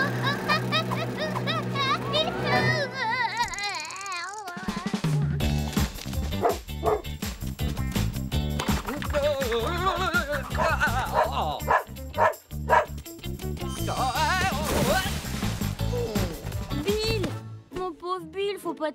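A cartoon dog barks and yips in quick, loud bursts over busy music and sound effects, with cartoon voices mixed in.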